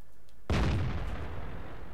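Tank cannon fires once in World of Tanks, a single loud booming blast that rings out and decays slowly over a rumbling battlefield background, no voices.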